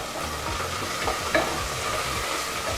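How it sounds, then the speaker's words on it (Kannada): Chopped onions fry in oil over a low flame for a village-style chicken saaru, giving a steady close sizzle broken by scraping stirs, with no one talking. "ಈಗ ಇದನ್ನು ಸಹ ನಾವು ಎಣ್ಣೆಯಲ್ಲಿ ಲೋ ಫ್ಲೇಮಲ್ಲೇ 3 ಇಂದ 4 ನಿಮಿಷ ಚೆನ್ನಾಗಿ ಫ್ರೈ ಮಾಡ್ಕೊಳ್ಳೋಣ."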